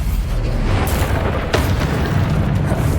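Bombarda explosion spell cast in the Hogwarts Legacy video game, a dense, continuous rumbling blast with a sharp crack near the middle, loud and sustained throughout without speech.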